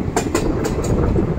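Agartala special train running on the Ambasa to Agartala line, rhythmic clickety-clack of wheels over rail joints, loud and close, with steady rolling rumble throughout.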